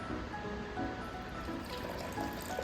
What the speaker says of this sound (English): Time to add the curdled milk mixture.